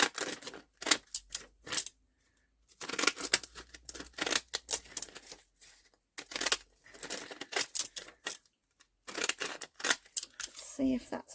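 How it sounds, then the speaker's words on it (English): Decorative decal edge scissors snip through vintage book pages in short bursts of crisp cutting, pausing between runs, close and clear. "I'm going to use my decal edge scissors and I'm just going to cut around"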